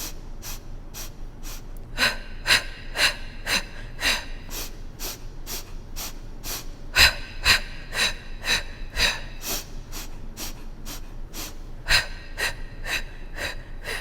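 Instructor's breaths during a Pilates reformer class, rhythmic sharp staccato puffs repeating steadily about twice a second, fairly close and moderately loud, with no talking.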